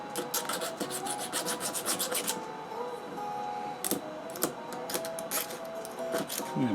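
A file brush scrubs across a screw to clear burrs while rebuilding a Graphic Whizard / Reiner machine, giving close, steady rasping strokes with a few louder scrapes, with no talking.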